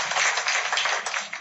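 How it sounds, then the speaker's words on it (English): An audience at a televised interview event with a presidential candidate claps in a dense, even patter of many hands, held steadily for over a second with no talk over it. "Clap for him for a second, please."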